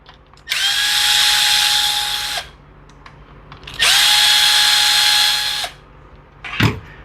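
A cordless power driver with a T25 bit runs in two steady bursts of about two seconds each, taking screws out of an Echo SRM 225 string trimmer's engine housing. A short clunk of handling follows close by.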